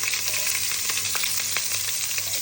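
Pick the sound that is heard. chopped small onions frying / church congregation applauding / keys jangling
chopped small onions frying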